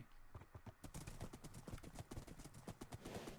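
A horse's hooves clip-clop in a steady, quick rhythm in a video game, the repeated close thuds continuing evenly and quietly with no talk over them.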